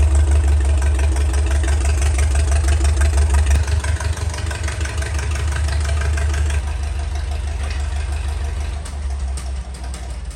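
An antique Farmall tractor engine runs steadily and loud with a deep, throbbing low-end chug and knocking rhythm as it drives into a garage, the tone shifting slightly partway through.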